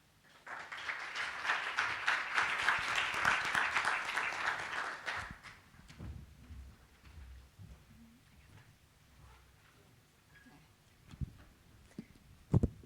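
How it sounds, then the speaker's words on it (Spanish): Audience applause at a presentation launch event, a burst of crowd clapping that holds for about five seconds, then stops abruptly, followed by faint room noise and a few scattered thumps. "Por favor, demos un fuerte aplauso a Ignacio y Alejandra."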